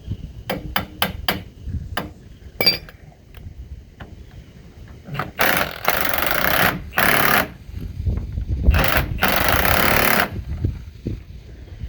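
A pneumatic impact wrench with a 15 mm socket works on carriage bolts of a 1999 Ford 7.3 Super Duty dually truck: several quick taps at first, then longer loud rattling bursts of hammering, close by with no talk.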